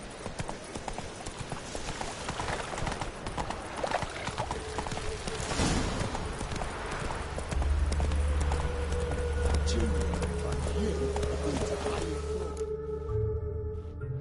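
Horse Roach galloping in The Witcher 3, fast rhythmic hoofbeats close and continuous, with game ambience and a low droning layer joining partway, and voices speaking over it.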